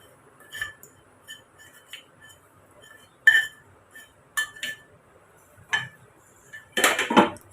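A spoon clinks against a vessel while dosa batter is mixed, giving sparse metallic taps and scrapes at irregular intervals, close and clear, with a busier clatter of stirring at the end.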